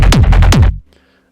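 Four quick, punchy psytrance-style synth kicks from a Serum preset in a tight rolling pattern, each with a sharp pitch drop, then an abrupt cut to near silence with faint residue.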